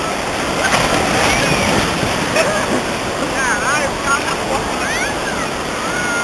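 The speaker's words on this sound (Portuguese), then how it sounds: "Joga com água, joga com água assim, bate na água, espirrando água" Children playing in water and splashing it about, a continuous busy wash of splashes and churning water close by, with high excited voices and shouts mixed in throughout.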